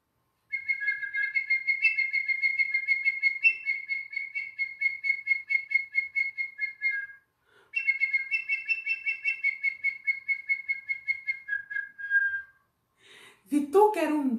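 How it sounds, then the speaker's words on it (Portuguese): Great kiskadee (bem-te-vi) call rendered as long runs of rapid, clear whistled chirps in two bursts, bright and close, with a brief voice at the end. "Vituca era um pequeno pássaro, bem te vi."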